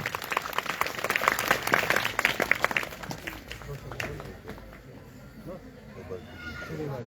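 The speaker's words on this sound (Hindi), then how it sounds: "एक बार जोरदार तालियां।" An audience at a Bhagavat Katha religious gathering breaks into enthusiastic clapping, a dense, fairly close burst for a few seconds that then thins and fades as voices carry on.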